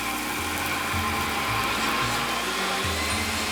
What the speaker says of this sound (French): j'ai versé l'oignon, carotte, lentilles, j'ai enlevé le clou de girofle et on va mixer notre soupe